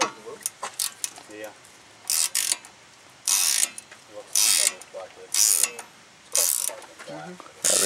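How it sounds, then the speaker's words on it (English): A wrench tightens a bolt in repeated short bursts of close metallic ratcheting clicks, separated by brief pauses. "we're going to have to get that second wrench in there again and hold it while we twist"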